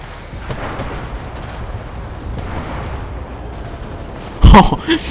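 Low rumbling gunfire and explosions from the video game Enlisted roll in the background, then a sudden loud tank cannon blast near the end.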